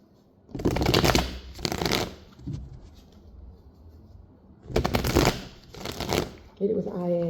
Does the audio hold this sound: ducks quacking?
no